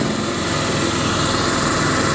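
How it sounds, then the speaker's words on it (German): A modern scooter's small engine running close by, a steady high buzzing drone with a constant throb and no break, no voices present. "Weil bei den äh, modernen Rollern ist das so, wenn der Motor jetzt an ist"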